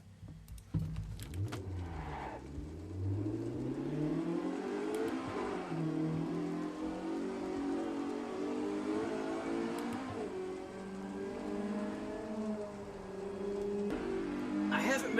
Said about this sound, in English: This here is the Peugeot 108 front-wheel drive, semi-race rigged.